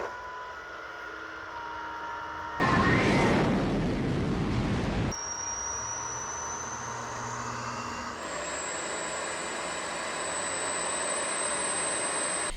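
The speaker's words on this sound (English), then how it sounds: "Not sure why it has that high pitch squeal to it." A Switchbot K10+ mini robot vacuum running close by with a thin, steady high-pitched squeal over its motor hum, briefly interrupted by a loud burst of rushing suction noise before the whine resumes at a higher pitch.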